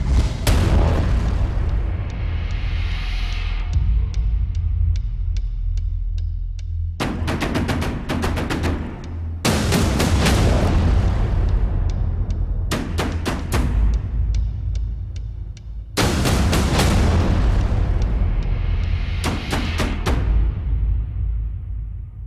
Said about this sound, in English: You want fireworks? Oh, we got fireworks for you right here on SaberCats Weekly.